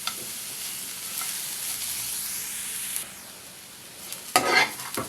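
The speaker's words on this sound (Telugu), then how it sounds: "దీన్ని ఇలా కలుపుకుంటూ వేయించుకోవాలి, లేకపోతే మాడిపోతుంది." Moringa leaves and carrot frying in a pan while being stirred, a steady close sizzle with hissing that dips midway, then a louder burst of scraping and stirring near the end.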